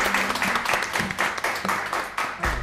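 An audience at a quiz competition claps in a rhythmic, fairly sparse pattern, with individual hand claps distinguishable and moderately loud, without any talking.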